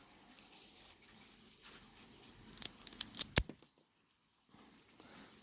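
A cigar's end being cut off, a soft rustle building into a cluster of crisp snipping and crunching cuts close by, then a sudden clean snap and near silence.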